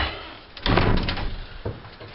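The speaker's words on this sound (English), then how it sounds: "I guess I can shut this door." An interior door in a house is pushed shut during a final walk-through before heading to the basement, giving one fairly loud, close thud with a smaller knock a second later, and no talk over it.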